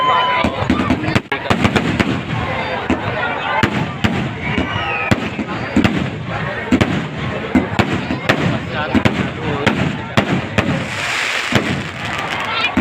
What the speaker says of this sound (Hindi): आतिशबाजी लगातार चला